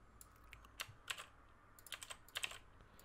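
Quiet, close computer keyboard typing in short irregular clusters of keystrokes with pauses between, no voices.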